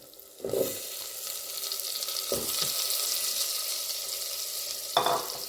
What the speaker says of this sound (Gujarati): તો એની અંદર મેં આવી રીતે સરગવાની સિંગને આવી રીતે કાપી લીધી છે અને ધોઈ કાઢી એડ કરી દઈશું.